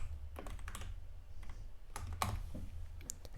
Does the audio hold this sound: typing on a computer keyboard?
yes